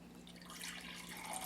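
Kombucha starter liquid is poured from a vessel into a jar with a brief, soft gurgling splash, faint and close.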